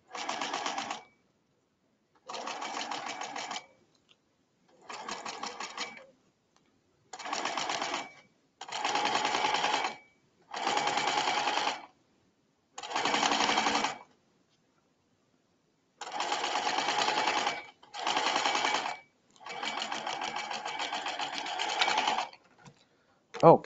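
A sewing machine stitches a boy's ballet shirt in about a dozen short, close bursts of rapid whirring, each separated by brief silences as the fabric is repositioned.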